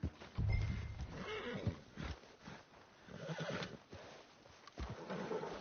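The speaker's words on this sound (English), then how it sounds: "Put Strauss on the back of John's horse, and let's get out of here" A horse in the video game Red Dead Redemption 2 whinnies loudly up close, followed by snorts and shuffling hooves, with more neighing and rough breathing later on.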